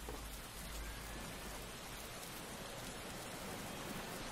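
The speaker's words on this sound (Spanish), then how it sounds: "está lloviendo, pero no es suficiente como para poner neumáticos de lluvia" Rain in the Motorsport Manager racing game: a steady, faint hiss of falling rain, even and unbroken throughout, with no talking.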